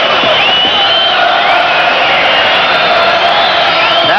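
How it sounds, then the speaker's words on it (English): A large boxing crowd cheers, whoops and chants loudly and without a break for Hugo Corro in the fifteenth and final round of his title defence against Rodrigo Valdez. "Some of the crowd in appreciation of Corro's effort. They know he's a winner, and they start to chant and sing."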